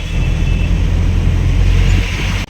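Road traffic on a busy route by the Malda town bypass in West Bengal, with loading and unloading along the road: a loud, close, steady low rumble of passing vehicles that cuts off abruptly at the end.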